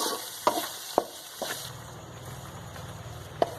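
Fish roe frying in a pan, stirred with a spatula: a soft steady sizzle with a few sharp clicks and scrapes of the utensil against the pan, close and quiet, no talk.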